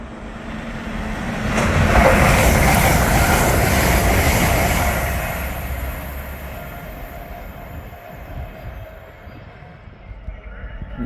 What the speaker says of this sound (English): A Lumo Class 803 heads south through Northallerton with a train from Edinburgh to London King's